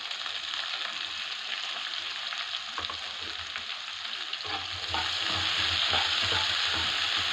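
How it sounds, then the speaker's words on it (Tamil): Onions and coriander leaves frying in a pan while being stirred: a steady close sizzle with scraping stir strokes, growing louder and fuller about two thirds of the way through, no talking. "இப்போது நம்ம வெங்காயம் போடுறோம். வெங்காயம் கூடவே கொஞ்சம் கொத்தமல்லியும் போடுறோம்."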